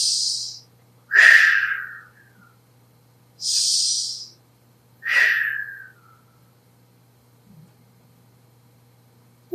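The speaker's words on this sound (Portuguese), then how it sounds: "prestando atenção agora na respiração no peito" Deep breathing during a posture exercise, heard close and alone: two full cycles of airy inhales followed by longer, hissing exhales, with a quiet pause after.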